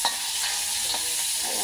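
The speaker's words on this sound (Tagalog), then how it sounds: "lagay na natin yung bawang. Lagay ng bawang." Garlic frying in a pan, a steady hiss and crackle of oil with light stirring scrapes throughout, close and continuous with no talking.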